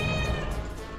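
A cat meows loudly and continuously for about a second in the video game The Unholy Society, a sustained, harmonic, close-up cry heard alone.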